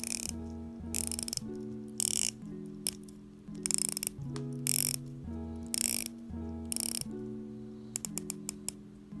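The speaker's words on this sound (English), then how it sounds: "We have a 120-click rotatable bezel." Rotating the 120-click bezel on an Invicta Pro Diver 30626 watch gives close, crisp bursts of rapid ratcheting clicks at regular intervals, over steady background music.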